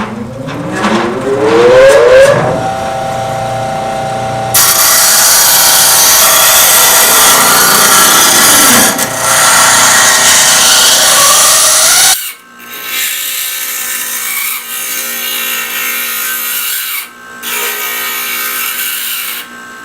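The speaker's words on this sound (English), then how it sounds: "we got the teeth ground off" Grinding the teeth off a saw blade to shape a parting tool: a loud, sustained power-grinder whine with shifting pitch and contact noise, dropping to a lighter grinding pass partway through, with no talk.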